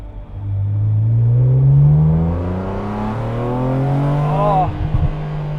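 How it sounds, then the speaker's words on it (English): A BMW M car engine revs up and down loudly nearby, with a burst of crackling exhaust pops near the end as the throttle lifts. "You can hear some popping from the exhaust"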